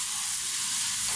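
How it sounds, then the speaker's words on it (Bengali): Tilapia and ash gourd curry sautéing with spices in a pan, giving a steady, loud broadband sizzle that holds evenly throughout with no talk. "মশলার সাথে তরকারিটা ভালো করে কষিয়ে নেব"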